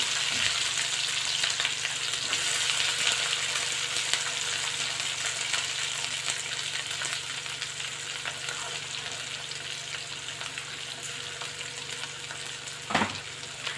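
Green chillies and onion fry in a pan with a loud, dense sizzle that holds steady and eases slightly over time, with a single sharp knock near the end and no voices.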